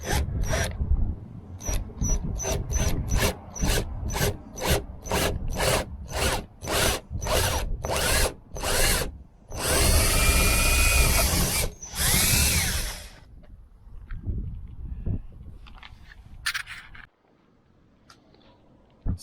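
A power drill bores 6.5mm holes through a metal outer skin backed by hardboard, giving a run of rapid bursts that merge into two longer, louder grinding passes before tailing off into quiet handling.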